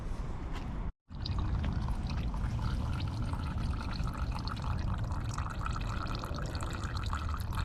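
Engine oil draining out of a Toro Z-Master 4000 series mower, a steady, continuous trickle and pour of liquid with a brief gap near the start, fairly close and holding an even level throughout.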